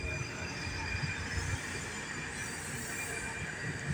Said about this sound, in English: And here comes the metro.